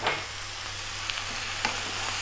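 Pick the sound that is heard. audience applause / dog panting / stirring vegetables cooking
stirring vegetables cooking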